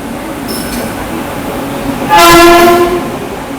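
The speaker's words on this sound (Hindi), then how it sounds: "चलिए देखते हैं जैसे अपनी ट्रेन का अराइवल होता है प्लेटफार्म नंबर 2 पर।" Mahabodhi Express, a train running between New Delhi and Gaya, arriving at platform 2 of a station with steady loud rail rumble and a brief, strong horn blast near the end.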